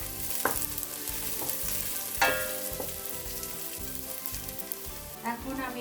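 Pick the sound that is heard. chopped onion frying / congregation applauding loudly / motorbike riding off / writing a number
chopped onion frying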